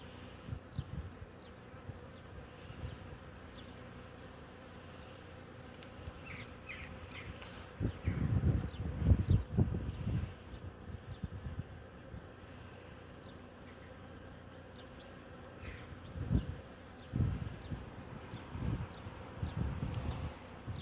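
Honeybees buzz around a beehive during a rooftop removal, a continuous drone with individual insects swelling louder as they fly close past, in several bursts over a steady background hum.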